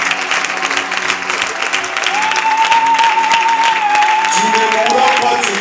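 A church congregation at a Sunday service applauds and cheers steadily, with dense clapping running throughout and a sustained tone rising partway through, full and close.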